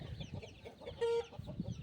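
A broody hen sitting on eggs clucks in short, soft bursts close by, with one sharper, louder call in the middle.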